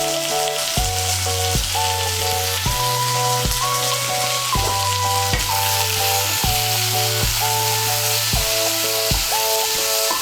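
Broad beans frying in oil in a pan give a steady, loud sizzle that runs through the whole stretch, partly masked by prominent melodic background music with a clear bass line.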